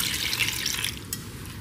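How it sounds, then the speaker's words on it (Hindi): Water from two glasses poured into a pot of mutton curry where the meat sits in ghee, a steady close splashing and trickling that runs the whole time with no talk. "दो ग्लास पानी के डालेंगे"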